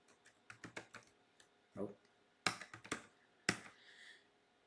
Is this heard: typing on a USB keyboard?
yes